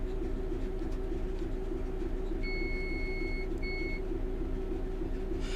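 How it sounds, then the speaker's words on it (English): A train length indicator in Train Sim World 3, driving a Class 66 locomotive, gives two short electronic beeps, a longer tone and then a brief one, clear above a steady rumbling cab background. "it'll beep at you again"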